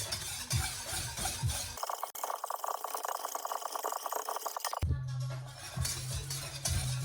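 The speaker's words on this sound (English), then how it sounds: "The trick is now just to not stop whisking." A whisk beats crème pâtissière in a pan as it thickens, a rapid rhythmic clatter against the pan with a wet swishing texture. A brief pause and a change in tone come midway, and no one talks.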